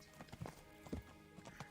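Horse hooves clop in a quick uneven rhythm in Kingdom Come: Deliverance, close and fairly quiet, with a few louder hoof strikes and no speech.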